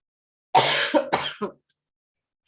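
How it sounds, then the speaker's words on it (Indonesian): A few harsh coughs in quick succession, close and fairly loud, followed by silence. "Gue jadi batuk."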